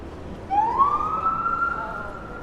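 An undercover police car's siren on a New York City street gives a single rising wail that holds steady, moderately loud over low traffic rumble.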